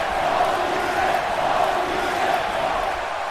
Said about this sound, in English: this DC crowd is on their feet